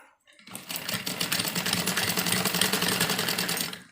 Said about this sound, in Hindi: तो यहाँ थोड़ी थोड़ी हल्की हल्की बुकरम पर हमें सिलाई लेनी है